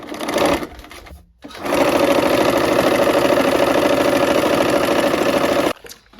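A sewing machine stitches quilt strips in a rapid, even mechanical chatter: a short burst, a brief pause, then a long loud steady run before stopping, close and alone without talk.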